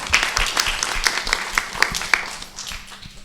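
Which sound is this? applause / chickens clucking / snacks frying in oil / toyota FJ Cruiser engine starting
applause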